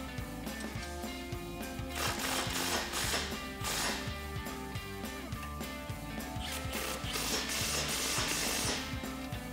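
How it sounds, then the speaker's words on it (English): A 19 mm socket on a ratchet tightens support bolts on a Ford Bronco RedRock grille guard, giving a steady close run of rapid ratcheting clicks with brief louder bursts, continuous throughout and without speech. "now we can go ahead and tighten down our four support bolts using our 19 millimeter socket"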